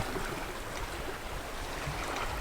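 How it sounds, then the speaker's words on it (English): Ocean water rushing and swishing steadily past a sailboat hull under sail with no engine, a soft continuous wash with no voices. "Sound of the ocean?"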